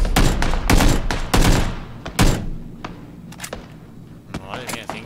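Gunfire in the battle-royale video game PlayerUnknown's Battlegrounds during a War Mode event: a rapid burst of loud shots at the start, then scattered sharper single shots and thuds that grow fainter and more distant.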